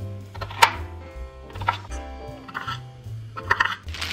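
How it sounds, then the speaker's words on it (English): Celery being chopped with a knife on a cutting board: a few separate close, sharp cuts spaced irregularly, with quiet stretches between them and no talking. "First, we're going to chop our celeries."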